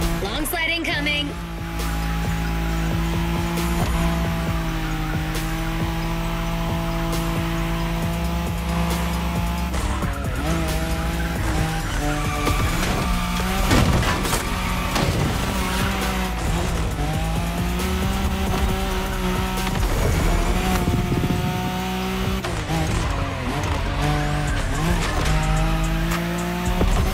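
Cars drift in The Crew Motorfest, with a sustained loud engine drone, long stretches of squealing tires through the slide, and excited talk over it throughout.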